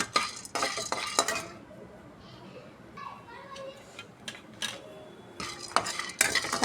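Chana dal and peanuts dry-roasting in a pan, heard as metal utensil scrapes and rattling stirs in bursts at the start and end, with children's voices and talk in the background between.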